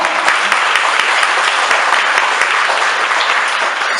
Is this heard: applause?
yes